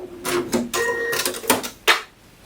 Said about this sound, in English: Now I want to go ahead and stitch the sides of this pocket in place so that it does not shift.